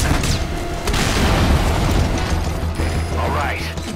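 Targets destroyed in the video game Metal Gear Solid: Ground Zeroes: booming explosions mixed with mechanical clanks and rattles, dense and loud across the few seconds.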